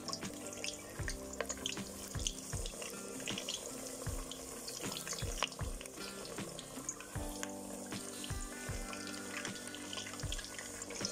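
Six eggplant slices fry in oil in a pan, a fine continuous crackle and sizzle with small pops and occasional clinks, close and moderately loud throughout without any speech.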